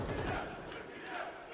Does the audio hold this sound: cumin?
no